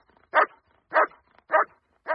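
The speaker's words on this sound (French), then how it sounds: "un chien bondit et lui mordille sa culotte" Four sharp barks from a sheepdog in a children's story, evenly spaced about every half second to second, close and loud with no talking.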